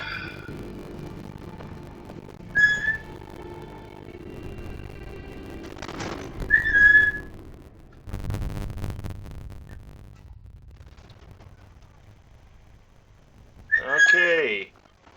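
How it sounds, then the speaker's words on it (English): A needy parrot lets out a few sharp, high whistles in separate short bursts, spaced apart over quiet background noise in a Fallout 4 game scene, with a brief low rumble in the middle. "That's a sound of a needy parrot"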